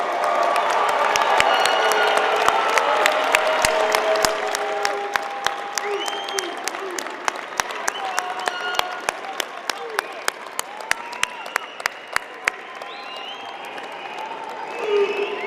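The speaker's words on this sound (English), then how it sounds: "Each of you please stand, turn to your families wherever they are, give them a big round of applause." Commencement graduates give their families a big round of applause, a dense crowd clapping and cheering in a large venue that thins into scattered claps, with a voice speaking over it.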